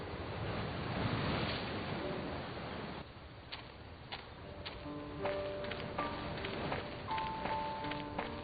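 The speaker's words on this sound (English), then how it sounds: "The waves are crashing here with particular violence." Loud, violent surf crashing against an island shore in the mystery game And Then There Were None, with gusting wind noise throughout and a few faint tonal game sounds entering in the second half.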